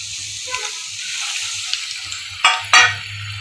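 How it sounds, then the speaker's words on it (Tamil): Pieces of KFC-style chicken fry in hot oil with a loud, steady hiss and sizzle, and near the end two sudden bursts of crackling as more pieces go in or are turned, with a low hum underneath. "ஒரு செகண்ட் நல்லா எண்ணெயில் ஃப்ரை ஆனோன்னே அதை திருப்பி போடுங்க."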